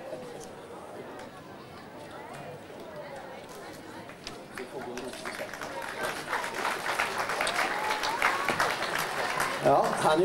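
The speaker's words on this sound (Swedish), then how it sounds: "han är ju väl värd en applåd" Audience applause at a Swedish gathering, rising from scattered clapping to a fuller, louder round by the end, with crowd chatter and voices mixed underneath.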